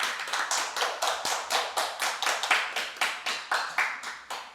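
A small lecture class claps in a steady, moderately quiet round of about twenty crisp hand claps in an even rhythm, with no talking over it.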